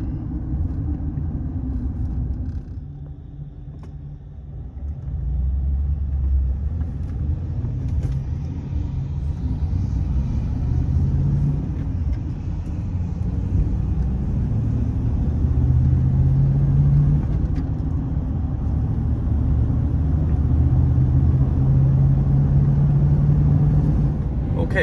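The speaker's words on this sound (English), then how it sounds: "This truck is quite silent to cruise down the highway despite the big brute of a V8 under the hood." A 2003 GMC Sierra 2500HD SLE 4x4 pickup with an 8.1 V8 and six-speed cruises at highway speed, giving a steady low engine drone and road rumble that stays fairly quiet and even throughout.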